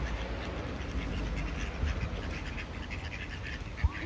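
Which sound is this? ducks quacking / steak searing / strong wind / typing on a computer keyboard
ducks quacking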